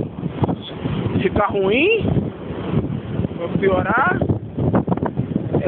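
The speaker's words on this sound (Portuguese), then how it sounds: "Os ventos realmente estão muito fortes." Strong wind gusts across deck 12 of the Costa Magica cruise ship, a steady rushing roar close to the microphone that continues under someone speaking Portuguese throughout.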